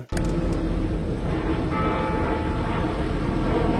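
A loud, steady rumble of a passing tram, close by, with a constant rolling roar and no voices.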